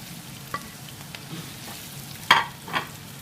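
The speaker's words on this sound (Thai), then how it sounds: "ผัดหอมใหญ่จนออกเป็นใสๆหน่อย ๆ เห็นไหมก็ใส่กุ้งเลย" Onion and fresh shrimp stir-fried in a pan for shrimp macaroni, a soft ongoing sizzle broken by a few scraping stirs and clinks of a utensil against the pan, heard close with no talking.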